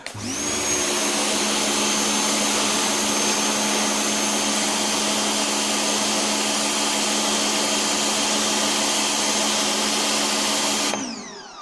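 A V-TUF V2 pressure washer runs with its 15-degree nozzle, a steady loud motor whine and hissing spray that holds unchanged for about ten seconds before cutting off abruptly.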